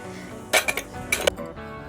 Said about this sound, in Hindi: दिल्ली की ठंड में बर्तन धोना एक टास्क के जैसा हो गया है।